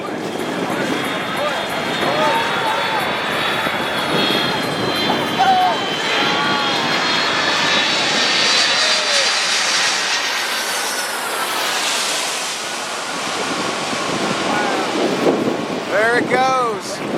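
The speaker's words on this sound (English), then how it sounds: "It's a big jet. Here it comes." Big jet airliner flying low over a Caribbean beach as heard from a catamaran, a loud rising engine roar with wind buffeting the microphone and people talking and exclaiming over it.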